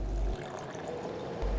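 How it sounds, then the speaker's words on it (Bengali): River water gurgles and pours in a steady, close flow, with deeper rumbling surges at the start and end and no voices. "নদীর কলকল ধারা"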